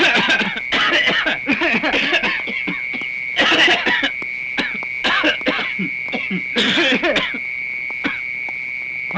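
In a Tamil action thriller film scene, several short, deliberate coughs and throat-clearings are repeated as a signal, with chuckles mixed in and a steady electronic tone running beneath.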